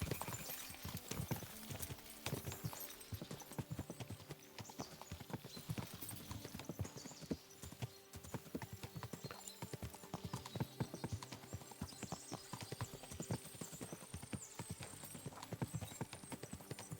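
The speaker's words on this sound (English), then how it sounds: "we'll give the horses a gallop again." Horses gallop in Kingdom Come Deliverance II: a dense, continuous drumming of hooves, close and steady for the whole stretch, with faint snorts or a whinny mixed in.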